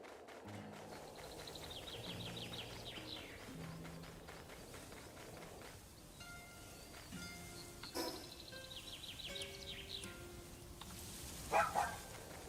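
A dog barking in the video game Palworld, with a few short yips and bursts breaking through a busy bed of game music and effects, loudest near the end.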